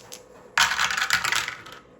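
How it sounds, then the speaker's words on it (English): Two dice tumble and clatter across a hard surface in one quick burst of rattling clicks that dies away after about a second, close and clear with no talking. "Roll 2 dice for the carnival."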